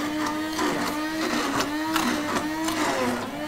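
A blender grinds salmon sauce with garlic and oil, making a steady whirring motor drone with a rhythmic churning pulse, fairly close and continuous throughout.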